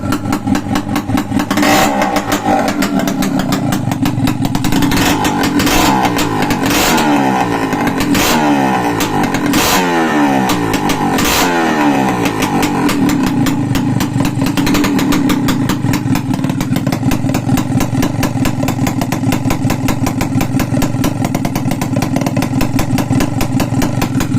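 A freshly overhauled motorcycle engine runs loud and close, revving up and down repeatedly before settling into a steady, even idle.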